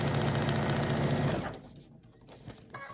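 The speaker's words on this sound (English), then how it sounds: "I go ahead and sew on that dotted line" A sewing machine stitches two quilt pieces together along a marked line for a scrappy tree quilt, running steadily and loud for about a second and a half, then stopping into quiet handling noises.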